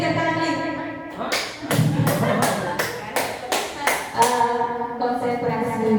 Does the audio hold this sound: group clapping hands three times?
yes